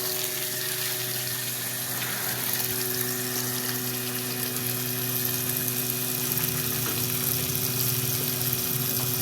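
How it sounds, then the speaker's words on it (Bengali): A small battery-powered 12-volt electric water pump draws water from a tube well, giving a constant droning whine with steady tonal hum and rushing water, loud and close, with no speech. "প্রচুর পরিমাণ পানি উঠছে টিউবওয়েল থেকে"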